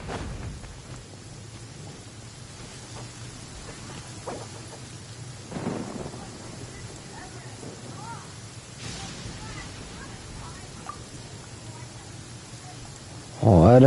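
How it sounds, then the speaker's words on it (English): Heavy rain pours steadily in a Genshin Impact game scene, with low rolling thunder rumbles building through the downpour and a sudden loud crack at the very end. "Rain's getting heavy."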